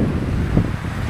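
Strong wind blows by a dusty riverbank, a steady low rumble buffeting the microphone, loud and constant with no speech.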